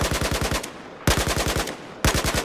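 Bursts of automatic fire from an AK-12 rifle in Battlefield 4, about ten rapid, evenly spaced shots per burst, with three bursts separated by brief pauses, loud and close.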